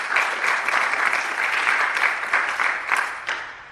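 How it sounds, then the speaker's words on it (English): An audience at a San Diego Comic-Con 2019 comics panel breaks into dense, sustained applause, a loud wash of many hands clapping together with no talk over it. "please let's give a round of applause"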